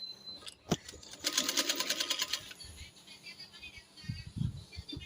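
Sewing machine stitching the seams of a boy's shalwar, a short loud burst of rapid stitching near the middle, with a few clicks and handling noises before and after.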